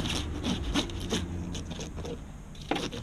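A serrated knife saws through a sheepshead fish in a series of rough rasping back-and-forth strokes, close and moderately loud, about six scraping pulls over a few seconds.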